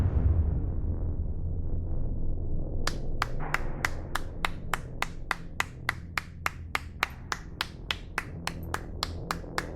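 A long run of sharp, evenly spaced human hand claps, about twenty in steady rhythm, rises out of a low rumbling horror ambience and carries on to the end.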